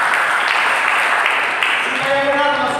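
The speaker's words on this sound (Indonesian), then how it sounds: "Berikan tepuk tangan bagi Tuhan." Church congregation clapping together in a steady, dense wash of applause, loud and close, with voices and a sung or spoken tone rising near the end.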